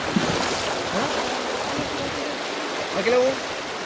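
River water rushes steadily as a car fords the Malan river, a continuous watery roar with people talking over it.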